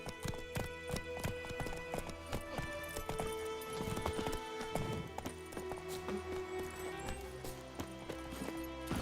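Roach, a horse in The Witcher 3: Wild Hunt, gallops with steady, close clip-clop hoofbeats throughout, layered over game music, with a brief whinny-like sound partway through.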